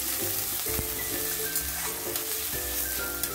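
Chopped onions sizzle steadily in hot oil in a pan with a steady crackle, stirred now and then with soft scraping knocks, close and quiet with no talk.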